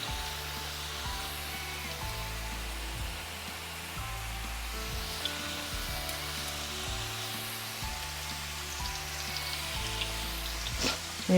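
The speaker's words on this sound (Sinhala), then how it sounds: "මේ විදිහට අපි විනාඩි 5ක් 6ක් වගේ කාලයක් හොඳට මේක හොඳට ෆ්‍රයිට් කරගමු" Potato slices deep-frying in hot oil for homemade crispy chips, a steady dense sizzle and bubbling that holds evenly throughout with a faint pulsing undertone, no talking.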